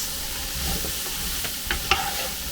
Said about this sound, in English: now this will toast off these spices too